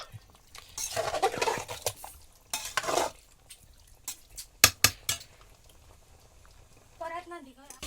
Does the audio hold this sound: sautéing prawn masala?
yes